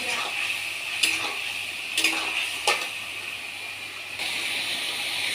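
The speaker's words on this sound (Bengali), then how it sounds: "মশলাটা কষাচ্ছি" Spices being sautéed in a pan while making dalia, a steady hissing sizzle with a few clear scrapes of a spoon stirring against the pan, and a person talking over it.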